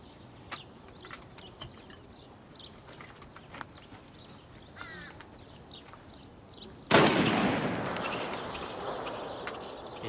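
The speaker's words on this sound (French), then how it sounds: "Prends le fusil, tire un coup dans le bois." A rifle shot fired into the woods, a sudden loud blast after quiet outdoor ambience with faint insect chirps and ticks, followed by a long broad rumbling echo that lingers to the end.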